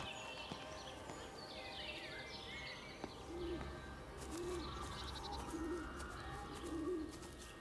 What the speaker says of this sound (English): But we hear lots of birds, so they all didn't die.